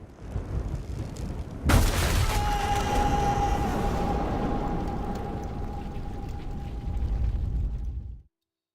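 Gunfire and explosions in the war video game 11-11 Memories Retold: a sharp blast followed by a long rumbling roll with a ringing tone that slowly fades out.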